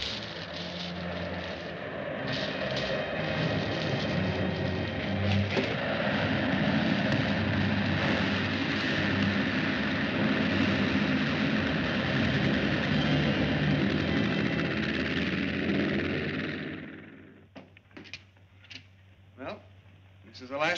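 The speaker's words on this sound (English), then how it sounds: "That must be the plane." A propeller airplane drones steadily overhead for most of the scene, a loud continuous engine roar that cuts off abruptly near the end, leaving a few faint knocks and thin background.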